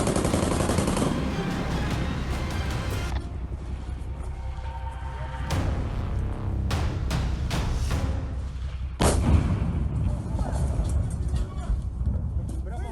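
Gunfire and artillery aimed at Russian tanks on a beltway during the Kharkiv counteroffensive: a loud, continuous roar with sharp cracks and heavy booms, including a strong blast near the nine-second mark, with voices underneath.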